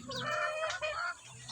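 A wild chicken clucks in a short burst of several quick, close calls, fairly faint but clear, with no voices around it.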